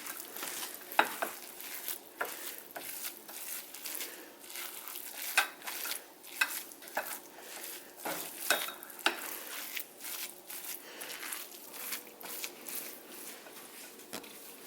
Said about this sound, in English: Now what happens is it gets this beautiful color when you mix the yogurt.